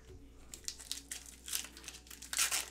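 Foil wrapper of a Star Trek Picard Season 1 trading card pack crinkling and tearing open up close, a quick run of sharp crackly rips over about three seconds.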